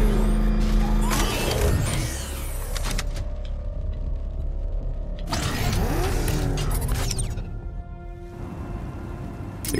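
The Batmobile driving in the video game Batman Arkham Knight: a continuous engine rumble with mechanical whirs, creaks and revving swells that rise and fall as it moves, with no talk.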